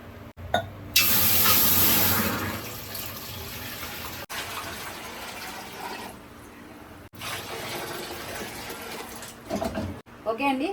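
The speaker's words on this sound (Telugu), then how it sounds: "ఇప్పుడు నేను వాటర్ వేసేస్తాను బిర్యానీకి" Water gushes and splashes steadily into a pot of chicken biryani for several seconds, then continues more softly with brief pauses.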